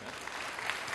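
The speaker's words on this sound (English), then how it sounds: "let's clap for our jumping cow" Children clap together for a classmate playing a jumping cow during a church children's message, a brief, dense burst of clapping at steady volume.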